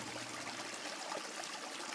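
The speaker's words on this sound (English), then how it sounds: "you can hear the water, the sewer water kind of washing out behind you guys" Sewer water washes and trickles out as a steady stream, a faint, continuous rushing texture with no voices, set as ambience for a tabletop role-playing game.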